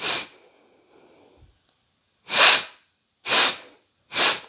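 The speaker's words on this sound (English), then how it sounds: "I'm testing it by breathing in sharply, and I can feel my fingers getting pushed out." Three sharp, loud inhalations through the nose or mouth in quick succession, each a brief breathy rush, taken during self-massage of the scalene neck muscles near the collarbone; a faint earlier breath and quiet rustle precede them.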